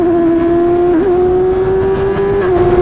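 A steady, high-pitched F1000 race car engine drones continuously at Silverstone, with a brief wobble in pitch and a slight drop near the end from a shifting problem.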